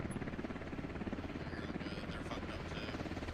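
Helicopter engine from the video game Squad, a steady, loud rotor and turbine drone with a rapid pulsing chop running continuously throughout.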